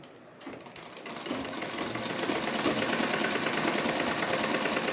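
A sewing machine stitches a garment's neck design, starting with a few soft clicks before settling into a fast, steady mechanical chatter up close.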